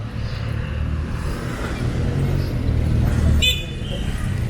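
Steady street traffic on Gorordo Avenue in Cebu City, Philippines, a continuous roadway rumble of passing vehicles, with a short car horn toot near the end and no talk.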